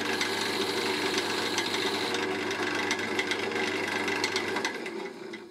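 A wood lathe turns a chisel handle down toward a one-inch diameter, giving a steady, close, continuous scraping and cutting whir that stops near the end, with no talking.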